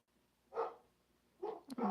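A pet dog barking indoors at home, two or three sharp, fairly loud barks separated by short pauses, the last ones coming in a quick burst.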